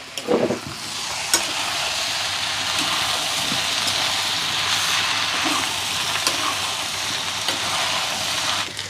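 Jackfruit stir-fry (chakka mezhukkupuratti) being stirred in a pan in a village kitchen, a continuous close sizzle with soft scraping stirs and a couple of sharper clinks, no talking.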